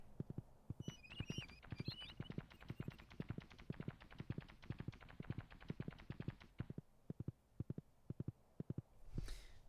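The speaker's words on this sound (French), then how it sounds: "On fait un tour de cheval, les enfants." A horse being ridden in the video game Stardew Valley clip-clops in a quick, regular rhythm of hoofbeats that slows and thins near the end, with faint game chimes early on.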